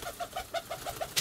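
Pigeon cooing in a series of about seven soft, evenly spaced low calls, close and fairly quiet, with a brief brighter sound at the end.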